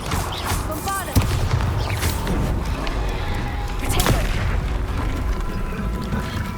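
Spell explosions go off in the video game Hogwarts Legacy: sharp booming bursts land around the one- and four-second marks over rumbling magical effects and whooshes, with a voice calling out among them.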